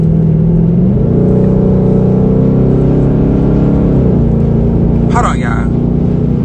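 A car moves through slow traffic with a loud, steady engine hum whose pitch shifts a few times, heard under a person talking close by.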